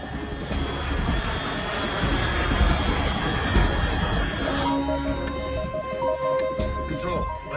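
A fast aircraft passes overhead in the video game Metal Gear Solid 3: Snake Eater, a steady, loud engine roar that holds through the clip. Later it shifts into a thinner, tonal hum, and a voice speaks over it.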